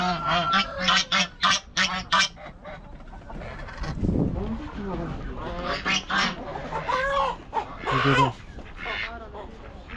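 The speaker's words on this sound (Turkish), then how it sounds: "Evet ördekler, tavuklar, horozlar." Chickens, roosters and ducks cluck, honk and crow in a busy cluster close by at Osh Bazaar market in Kyrgyzstan, with a person talking over the birds in the middle.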